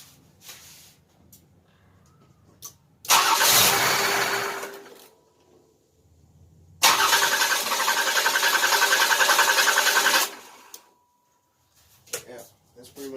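A 1988 Buick Reatta engine, revived after ten years standing, cranks and catches in two loud bursts separated by quiet gaps, the second running a few seconds longer with a steady rough chug before cutting off.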